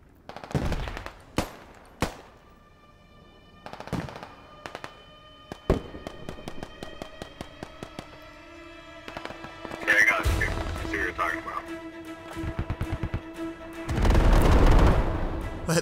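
Mortar rounds burst on an enemy position in the Squad video game, with sharp scattered impacts early on building into louder, rumbling clusters of explosions near the end, mixed with distant gunfire cracks.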